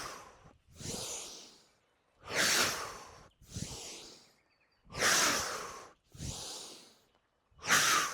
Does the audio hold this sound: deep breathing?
yes